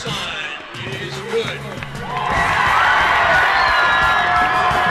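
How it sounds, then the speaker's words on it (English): A high school football crowd in a stadium swells into a loud, sustained roar of cheering that builds and holds, with a play-by-play announcer talking over it. "The crowd erupts."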